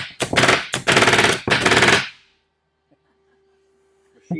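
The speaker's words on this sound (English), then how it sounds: "Machine staple gun." A pneumatic machine staple gun drives staples into fabric on Amish furniture, firing three loud, rapid bursts of sharp clacking shots in quick succession, followed by near silence.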